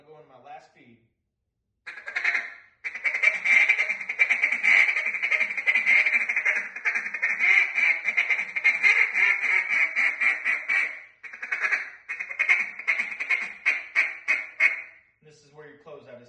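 A fast, rolling feed chatter blown on a duck call in a meat duck contest routine, loud and close, running nearly continuously for about nine seconds before breaking into a few separate quacks, with brief sounds at the start and end.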